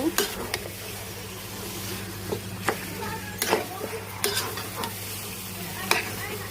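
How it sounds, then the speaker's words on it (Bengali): Beef pieces coated in spices being stir-fried in a pot, with repeated sharp spatula scrapes and knocks at an uneven pace over a constant low sizzle and hum. "প্রতিটা পিসের সাথে মাংসের মশলাগুলো আমি লাগিয়ে ভালো করে কষিয়ে নেব"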